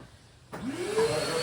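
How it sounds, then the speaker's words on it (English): A vacuum cleaner switches on after a brief quiet moment and runs steadily, sucking up metal shavings, with a rising whine and a rushing, gritty roar. "Vacuum here, some shavings."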